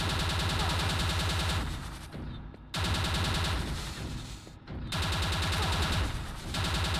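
Enemy gunfire in Quake II: Ground Zero rattles in long, loud machine-gun bursts separated by short lulls, close and relentless with no voices.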